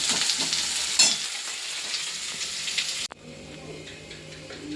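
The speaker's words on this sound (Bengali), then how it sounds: "ভেজে পেঁয়াজটা তুলে রাখবো" Onions fry in a hot pan with a loud, steady sizzle and crackle that drops suddenly to a quieter hiss partway through.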